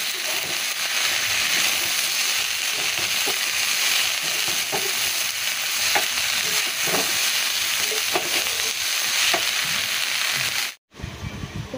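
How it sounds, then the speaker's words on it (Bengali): Saag greens fry in a hot pan, giving a steady, close sizzle with intermittent stirring scrapes. It runs continuously and fairly loud, then cuts out briefly near the end. No talking is heard. "তো বন্ধুরা বসিয়েছি শাক ভাজার, এই শাক ভাজার গন্ধটা খুবই সুন্দর বেরোয়।"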